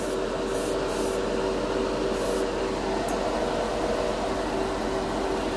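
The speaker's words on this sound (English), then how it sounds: "I got the airbrush compressor set for 20 PSI." An airbrush driven by a compressor set to 20 PSI sprays metallic paint onto a scale model, producing a steady close hiss over a constant mechanical hum, with no talking.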